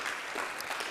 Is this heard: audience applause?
yes